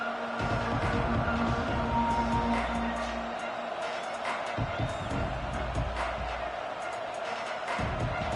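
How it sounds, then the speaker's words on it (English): A simulated stadium crowd roars steadily in a college football video game, a dense, continuous wall of cheering and murmur with occasional swells, heard under a play-by-play commentator's voice. "This crowd ready to make its presence known."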